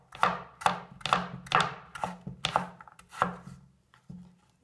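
A knife chops cucumber on a cutting board in about nine sharp, evenly spaced strokes, close and crisp with short pauses between them and no voices.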